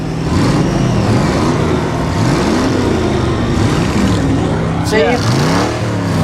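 An engine-rev sound effect from a Mad Max film: a loud, continuous car engine rising and falling in pitch through repeated revs, ending in a quick whoosh. A voice speaks briefly over it.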